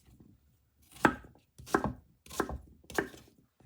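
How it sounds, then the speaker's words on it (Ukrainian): Four firm knife chops cutting peeled pumpkin into small cubes on a cutting board, evenly spaced and close, each a crisp thud with nothing else around. "Тепер нарізаю його на невеличкі кубики."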